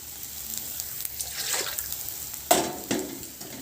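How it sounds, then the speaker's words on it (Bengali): Hot water poured onto eggs frying in a pan gives a rushing watery gush with bursts of sizzle, a few sharp splashes standing out near the end, no voices. "তো ডিমটা আমার ভাজা ভাজা হয়ে গেছে, এবার আমি জল দিয়ে দেব।"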